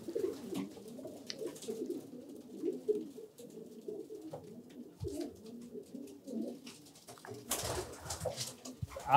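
Pigeons coo steadily in a breeding loft, a soft continuous chorus of overlapping low calls with a few brief rustles and no talk.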